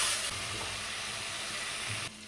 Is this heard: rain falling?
no